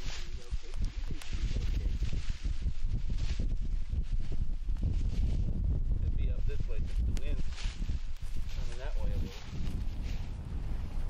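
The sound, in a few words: cold wind blowing on a January day during a bird hunt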